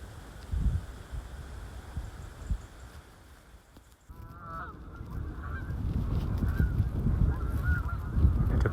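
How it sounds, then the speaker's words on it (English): A flock of migrating geese honks overhead near Almscliffe Crag, scattered calls rising from the middle onward over rustling wind and footsteps, moderately loud and growing. "It appears that we've got a flock of migrating geese flying overhead"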